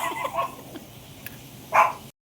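A few short, faint barks and yips from an aspin (Philippine mixed-breed) dog, the last one louder and closer, separated by quiet pauses.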